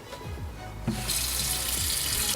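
Tap water runs and splashes into a Vecuni 1-litre electric kettle, a steady bright rush that swells as the stream strengthens and continues without talk.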